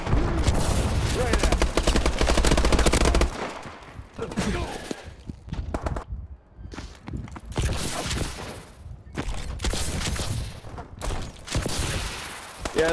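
Rapid gunfire and explosive booms from Call of Duty: Advanced Warfare multiplayer, dense bursts over a heavy low rumble, then scattered shots and blasts with players talking over the action.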